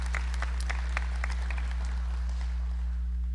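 Scattered applause from an evening audience for a speaker named Mike Duncan, individual claps near at first and thinning out, over a steady low electrical hum.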